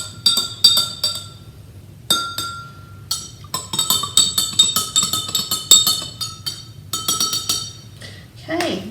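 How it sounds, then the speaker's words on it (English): A metal spoon stirring dye in a glass of water, giving bright repeated clinks in quick irregular runs, close and clear against a quiet background. "I'll just grab a spoon. All right, we'll stir that up."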